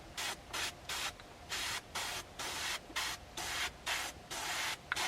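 An airbrush sprays black paint onto a flocked mallard drake decoy in short hissing bursts, about a dozen evenly spaced pulses with brief gaps between them, close and alone.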